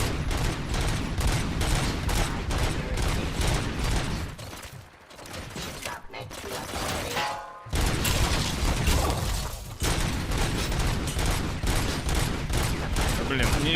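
Gunfire at robots in the video game RoboCop: Rogue City, dense rapid bursts of shots with mechanical clatter, loud and continuous apart from a brief lull midway, with someone talking over it.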